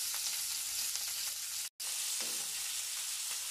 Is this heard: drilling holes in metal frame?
no